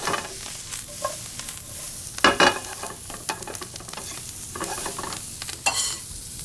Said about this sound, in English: You can start to really smell the shallots getting toasted off in this bacon